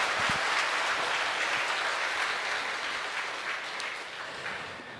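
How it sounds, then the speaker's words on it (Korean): A church audience in Gyeongju applauds at a charity concert held to help heart disease patients, a loud, sustained wash of clapping that slowly tapers toward the end, with no voices. "다시 한번 박수 한번 쳐주시겠습니까?"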